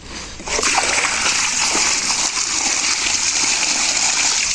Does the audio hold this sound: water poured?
yes